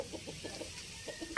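A Talisay black-legged gamecock on a backyard farm gives a few soft, short clucks close by, ending in a sudden louder burst.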